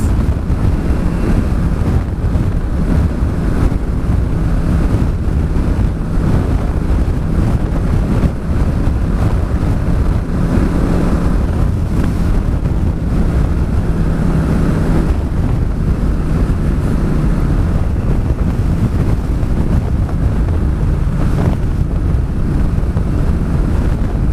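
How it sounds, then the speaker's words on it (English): Strong wind buffets the microphone on a motorcycle ride through the Portuguese countryside near Mafra, Montejunto and wind turbines. A loud, constant roaring rumble runs the whole time with no letup. "Man, this is so much wind!"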